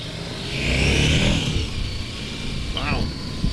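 A 2022 KTM 1290 Super Adventure R motorcycle accelerates in a loud, steady engine roar that builds and holds, mixed with wind rush, while a rider talks over it.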